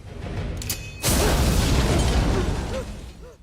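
A bomb blast in a film bursts suddenly after a mechanical lead-in, followed by a sustained roaring rumble of debris and fire that slowly fades, loud and close.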